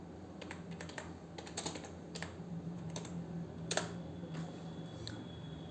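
Keystrokes on a computer keyboard as a comment or name is typed into an Excel cell, a steady run of quick, light clicks in small bursts with short pauses, close and fairly quiet over a low hum.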